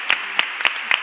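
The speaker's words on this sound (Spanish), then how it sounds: "Les vamos a dar un fuerte aplauso, por favor" Audience applause at a library day event, four separate sharp claps spaced evenly and close, heard alone.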